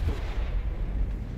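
A BT-42 tank cannon fires in the War Thunder video game, one heavy booming shot with a deep rumbling tail that fills the moment alone, no voices over it.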